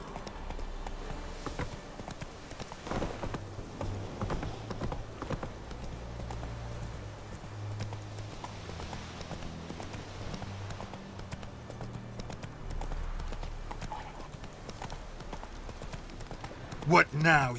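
Horse hooves clip-clop at a steady gallop in The Witcher 3, rhythmic and fairly close, running under game music with a voice speaking over it and a louder burst near the end.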